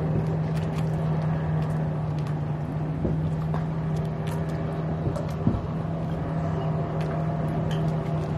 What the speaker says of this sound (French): il y a genre un petit bateau qui vient les récupérer.